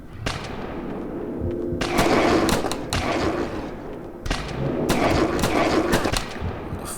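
Shotgun blasts in the video game Outbreak, two loud booming reports spaced a few seconds apart, each with a sharp attack and a lingering rumble over a steady game background.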